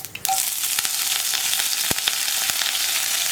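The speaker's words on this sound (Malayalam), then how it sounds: "ഇതിലേക്ക് ഒരു 4 വറ്റൽമുളകും 2 തണ്ട് കറിവേപ്പിലയും ചേർക്കുന്നുണ്ട്." Four dried red chillies and two sprigs of curry leaves sizzle and crackle in hot coconut oil, a loud, steady, close frying hiss with a few sharp pops, alone without talk.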